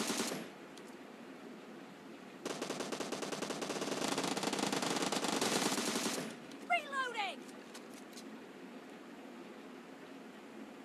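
Gunfire in PUBG Mobile, a sharp shot opening a sustained, loud burst of automatic fire lasting several seconds, then dying away into quieter tones and game noise.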